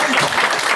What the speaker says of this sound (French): On peut applaudir le génie.